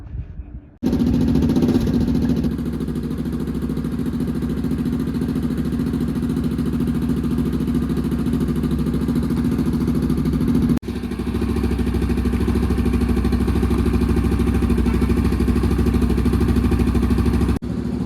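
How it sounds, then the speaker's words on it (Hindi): Several village motorcycles idle together at a bike service day, a loud steady mid-pitched engine drone that runs continuously, with one brief dip midway before the rumble resumes close by. "यहाँ पे गांव वालों की बाइकें भी आ चुकी है"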